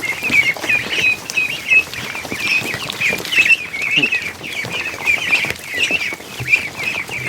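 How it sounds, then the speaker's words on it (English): Ducks and goslings call in a busy farm flock, repeated high peeps and quacks overlapping near and far in quick irregular bursts. "Just a whole bunch of healthy, happy ducks."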